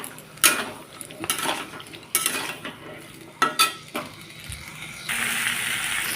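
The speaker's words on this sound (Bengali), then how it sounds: "কাবলি ছোলাটাকে দিয়ে ভালোভাবে নাড়াচাড়া করে নেব" Kabuli chickpeas being stirred in a pan with a little of their cooking water, repeated metallic scrapes and clanks of a spoon against the pan in uneven strokes, over a low sizzle that grows steadier at the end.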